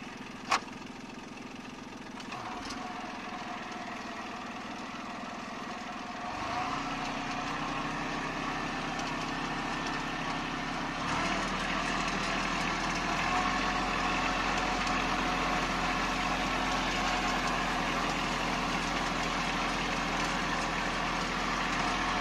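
A Kubota Aste A15 tractor engine runs steadily as the machine drives toward a field, a continuous close mechanical drone that grows slightly louder partway through, with no talk over it.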